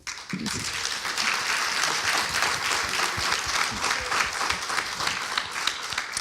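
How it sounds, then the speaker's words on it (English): A cinema audience at a community film panel breaks into sustained, even applause, many hands clapping close and continuously for several seconds with no speech over it. "I really want to just have one round of applause for these people."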